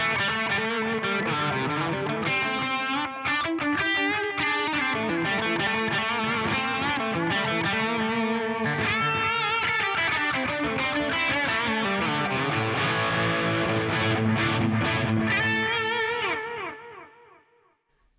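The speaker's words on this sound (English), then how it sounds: "I've also got an LFO connected to the looping delay just to modulate the delay line a little bit." Sustained electric guitar through a looping delay modulated by an LFO, wobbling and swirling as it repeats and pitch-shifts notes, layered and lush with hall reverb, then fading out at the end.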